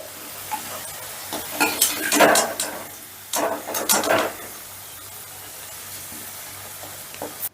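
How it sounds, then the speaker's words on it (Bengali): Potatoes frying in oil in a pan over a medium gas flame, a steady soft sizzle with bursts of louder crackling and stirring scrapes in the middle, then settling back to a quiet hiss. "এবারে গ্যাসের আঁচটা মিডিয়ামে রেখে আলুগুলোকে আমি বেশ লাল লাল করে ভেজে নেব"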